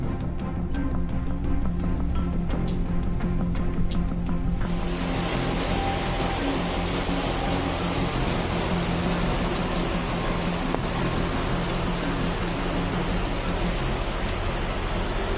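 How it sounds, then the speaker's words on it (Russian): Steady rain pours down on the road to Manali in India, a dense, even hiss of drops on surfaces that swells after a quieter opening and holds unbroken with no voices. "А тем временем хорошая погода подошла к концу и начался дождь."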